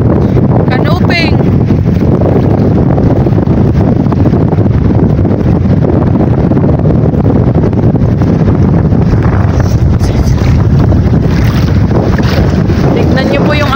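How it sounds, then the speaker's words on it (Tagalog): Strong wind on a seashore with waves rolling in, a loud steady roar that buffets the microphone heavily, and a voice speaking faintly under the din. "Ng hangin at ng alon."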